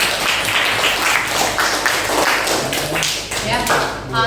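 Students in a classroom economics lesson clap for a classmate, a dense burst of overlapping claps and taps across the whole stretch, with voices audible underneath and a brief voiced sound near the end.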